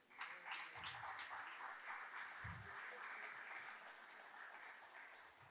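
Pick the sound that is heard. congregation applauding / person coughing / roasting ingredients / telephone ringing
congregation applauding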